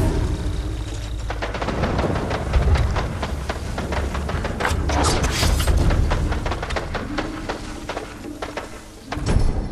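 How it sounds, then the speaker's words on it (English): Rapid strings of sharp pops and bangs crackle in dense bursts for several seconds as firecrackers go off nearby in the video game Ghost of Tsushima. "let's throw the firecrackers there"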